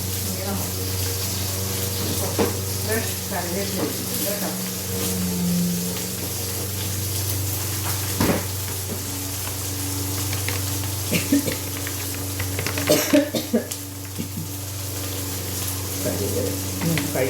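Green chilli, ginger and garlic fry in a pan with a steady close sizzle, dotted with occasional clinks and stirring noises throughout.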